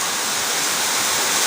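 Floodwater from a super typhoon rushes past a gate in a steady, loud broadband roar, continuous and close with no voices.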